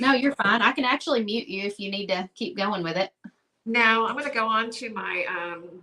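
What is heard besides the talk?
No everyday noises stand out.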